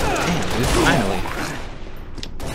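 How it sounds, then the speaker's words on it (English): Rapid video-game gunfire from Halo Reach, a dense continuous burst of shots over roughly two seconds that thins toward the end, with game noise mixed in. "Who the hell is shooting?"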